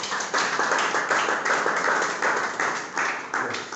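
An audience claps steadily through a platform ceremony where a retired navy commodore is inducted as a global SDG advocate, with dense, even applause throughout and no voices.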